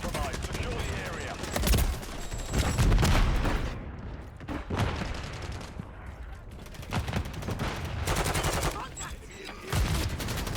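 Call of Duty MW3 firefight with repeated automatic gunfire bursts and booms, loud and close, broken by short pauses, with a voice talking between volleys.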